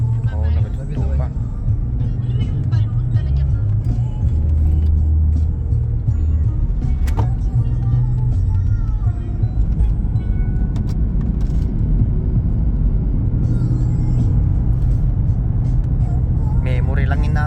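A car drives along a road in New Zealand, its engine and tyre rumble a steady low drone close inside the cabin throughout, with people talking over it.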